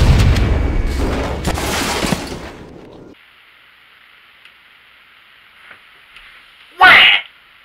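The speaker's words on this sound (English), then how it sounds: "we need to detonate one last firing mechanism" Detonation of a firing mechanism in Halo: Combat Evolved: a single sharp, loud blast near the end, after talk over game sounds gives way to a quiet electronic hum.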